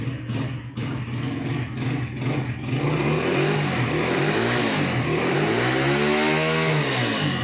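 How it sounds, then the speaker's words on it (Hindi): A Ravi 100cc motorcycle engine idles with a rough chugging pulse, then is revved up and down in rising and falling sweeps, loud and close by. "वही होंडा 125 वाली साउंड है।"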